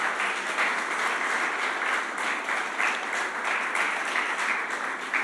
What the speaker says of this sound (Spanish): ¿Cuántos le dan un aplauso al Señor por esto?